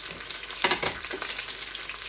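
Pineapple fritters frying in very hot oil, a steady close crackling sizzle with a brief louder burst of spitting partway through; no one speaks.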